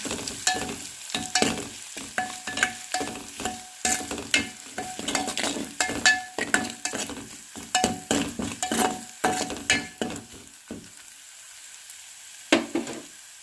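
A pan fries on a low flame while a spoon stirs and scrapes, giving repeated close clattering strokes over a soft sizzle, then a brief lull and one last scrape.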